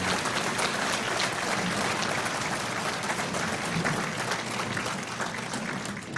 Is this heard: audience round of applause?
yes